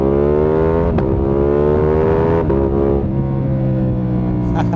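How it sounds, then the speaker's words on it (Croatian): A Ducati motorcycle's engine roars loud and close while being ridden, its throaty drone climbing and shifting in pitch as the throttle opens, with wind rushing over it throughout. "Joj, ovaj Ducati je zvuk, kako je dobro"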